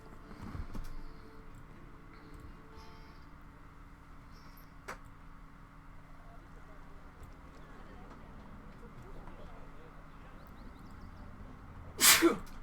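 A single short, sharp sneeze comes near the end of a long stretch of quiet background noise in a Planet Zoo game session.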